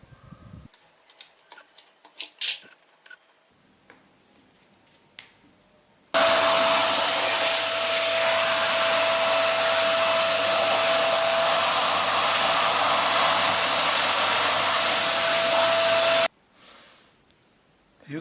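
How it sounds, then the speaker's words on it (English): A Eureka Forbes Trendy Zip vacuum cleaner fitted with its multi-purpose hose runs loud and close for about ten seconds, a steady broadband whoosh with a thin high whine, switching on and off abruptly amid quiet handling noises. "We'll see what this vacuum cleaner can do with this multi-purpose hose."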